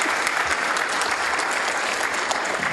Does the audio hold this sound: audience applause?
yes